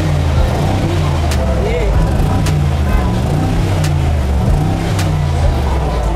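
A 700-horsepower V8 bi-turbo car with a front intercooler rumbles at a sunset GT motor show at a shopping mall, its deep engine drone steady and loud with surging revs and crowd noise around it.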